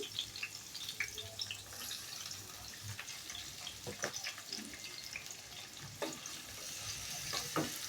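Chopped onions fry in about two and a half tablespoons of hot oil, giving a quiet, steady sizzle with scattered stirring scrapes and ticks throughout, close but faint.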